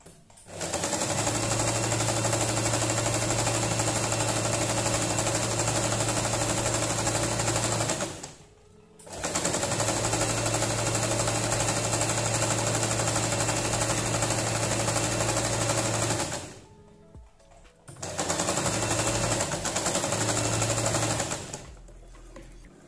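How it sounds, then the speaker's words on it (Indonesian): A sewing machine stitches the bottom seam of a fabric shopping bag made from scraps, running in three long steady bursts with brief pauses between them, loud and close with no talking. "Bagian bawah juga kita jahit setengah senti."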